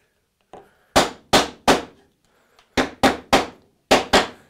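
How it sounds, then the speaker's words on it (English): Hammer blows seating a wooden dovetail half lap joint for a window frame: a few light taps, then eight sharp, loud knocks in two quick groups, close and alone without talk. "Now, do I want to hammer it?"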